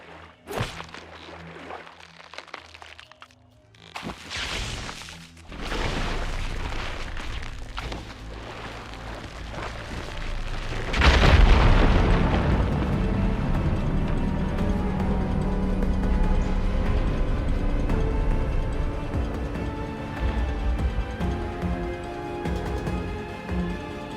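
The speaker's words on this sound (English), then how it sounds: "Igniting the fire gleam should clear it." Fire gleam ignites and blows apart a rubble pile in Horizon Forbidden West: a sharp whoosh and heavy blast at mid-clip, then a sustained roar of crackling debris over game ambience and music.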